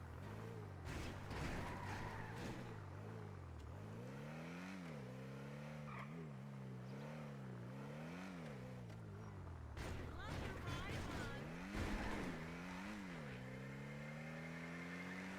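A turbocharged car revs repeatedly in a GTA roleplay game, its engine note climbing and falling in waves throughout, with voices talking over the sound the whole time.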